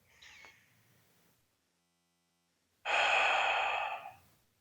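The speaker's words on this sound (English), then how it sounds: "Take a deep breath in." A single deep breath drawn in, a long loud rushing inhale up close, following a faint short breath and a moment of silence.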